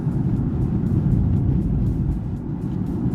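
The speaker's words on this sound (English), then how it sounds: "I just like the way this car gets up and goes." An Aston Martin Rapide S accelerating on a road, heard as a steady, loud low engine rumble and road roar from inside the car, with no talking.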